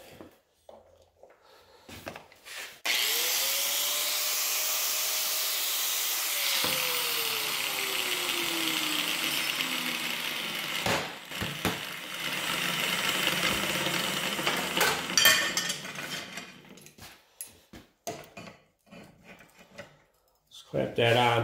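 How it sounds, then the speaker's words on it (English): An angle grinder spins up and cuts through sheet metal, a loud sustained whine that drops in pitch under load, then winds down amid clatter, with someone talking around it. "Plug in me trusty grinder."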